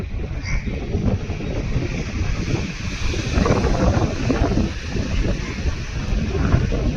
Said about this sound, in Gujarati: એક મોટી બોટ આવે જો હવે